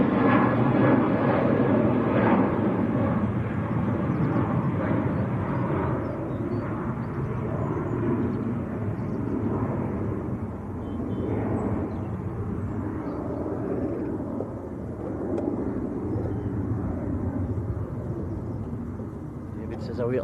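A Ryanair airliner departs Manchester Airport for Madeira, a broad engine roar that slowly fades over twenty seconds, moderately distant, with people talking at times.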